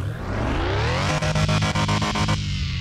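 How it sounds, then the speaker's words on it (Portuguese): Volkswagen Beetle engine in Car Mechanic Simulator, rumbling loud and steady as it rises, then throbbing with a rhythmic pulse before settling, with no talk over it. "Fuscão com ronco desse, meu parceiro, respeita."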